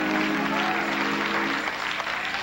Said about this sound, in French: Pardon pour applaudissement pour notre Dieu.